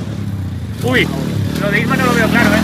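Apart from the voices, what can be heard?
pit bike and motorbike engines during jumps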